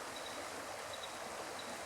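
The Duck River in south Tennessee runs steadily, a soft continuous broadband rush of flowing water heard from nearby with no voices or other sounds.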